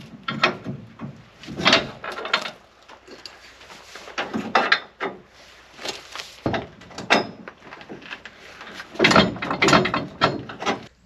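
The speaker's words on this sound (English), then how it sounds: "Now I'll just get my pins and pin the hitch in place." Metal safety pins are pushed through a trailer hitch extension holding a large spare tire, making a close, loud run of irregular clanks, rattles and ratcheting knocks with short pauses between.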